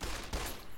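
A quick burst of video game gunfire aimed at geckos, two sharp close shots under a second, with no talk.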